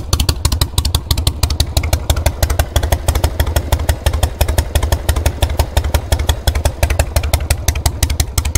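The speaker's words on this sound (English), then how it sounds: "It's a shovel head." A Harley-Davidson Shovelhead motorcycle engine with drag pipes idles loud and close, its lumpy, uneven exhaust beat thumping steadily throughout with metallic clatter.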